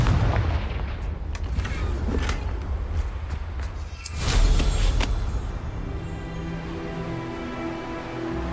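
The Confringo blasting spell in Hogwarts Legacy goes off as a loud, rumbling burst, with a heavy boom midway and crackling, sustained noise trailing after, no voices.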